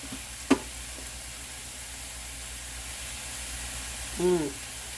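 Shrimp-dish vegetables fry in a pan with a soft, steady sizzling hiss, near and fairly quiet, broken by a sharp click early on and a short voiced sound near the end.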